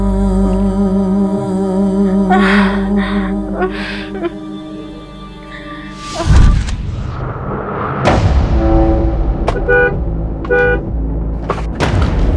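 Car horns honk repeatedly in busy traffic, with a long blare and several short toots over engine noise and a couple of loud thumps.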